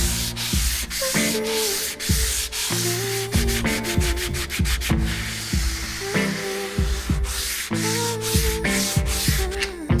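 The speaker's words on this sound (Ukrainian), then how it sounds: "Огортаю відливку м'яким наждачним папером та помірним натиском формую бажаний профіль" Hand sanding of body filler with soft sandpaper, shaping a moulded filler edge on a Nissan S12. Repeated rasping strokes, fairly loud and close, over continuous music with no speech.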